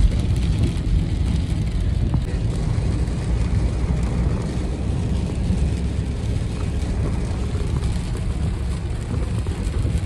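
Traffic at a junction on a flooded, rain-soaked street in Guwahati, a dense constant roar of engines and rushing water and rain, loud and unbroken throughout, with no talk.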